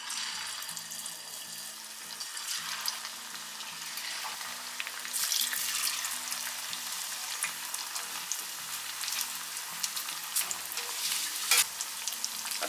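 Paneer pieces deep-frying in oil in a kadai, a steady bubbling sizzle that swells louder midway and carries faint clatters of handling, with no voices.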